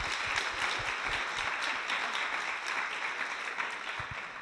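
An audience at a children's show on a Mahasamadhi Day event in Bradford applauds, a dense steady wash of many hands clapping that continues throughout.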